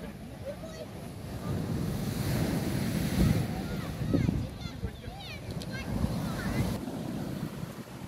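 Sea waves break and wash on a partly sandy beach at Pitsunda in Abkhazia, a steady rushing surf mixed with heavy wind buffeting on the microphone, while a person talks over it.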